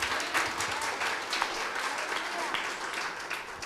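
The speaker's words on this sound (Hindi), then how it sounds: "तो जोर से तालियां बजाइए" A church congregation applauds during a pastor's sermon. The clapping is steady and fairly loud, with sharper claps standing out, and a voice shows faintly beneath it.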